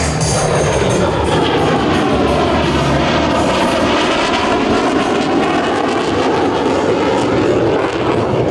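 A USAF F-35B STOVL fighter jet making a pass at the Singapore Airshow, its loud, broad engine roar sustained and steady throughout with no talk.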